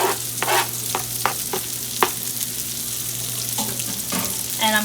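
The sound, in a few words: bacon frying and sizzling in a pan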